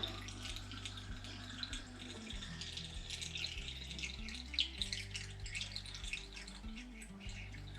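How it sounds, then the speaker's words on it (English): Water poured from a jug through a small funnel to prime a pump at an off-grid cabin in winter, a close gurgling, splashing stream with shifting glugging pitch, running on steadily without talk. "So we just use this in this little funnel to fill the pump up to prime it."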